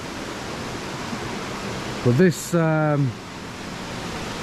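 A quiet waterfall in Kaeng Krachan National Park, Thailand, heard as a steady broadband rush of falling water, with someone speaking briefly over it midway.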